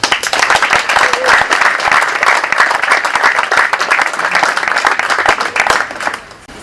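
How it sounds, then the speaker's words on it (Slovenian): An audience at the opening of a sports centre in Ljutomer claps loudly and continuously, dense applause filling the room for several seconds before tapering off at the end. "Dajmo mu en aplavz"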